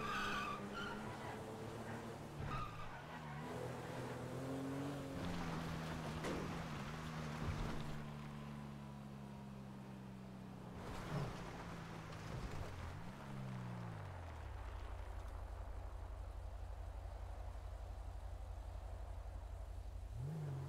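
In GTA 5, a car engine drones and shifts pitch as it swerves across the road, broken by tire skids, then settles into a low idle hum.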